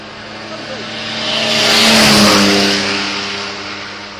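A fast white car accelerates past at the Kop Hill hill climb, its engine note swelling to a loud, close roar before fading away as it goes by, with a voice talking over it.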